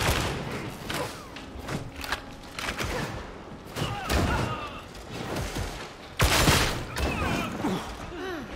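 Enemy gunfire in Warhammer 40k: Darktide: repeated loud shots and thuds in irregular bursts, with heavier blasts standing out amid the chaotic battle noise.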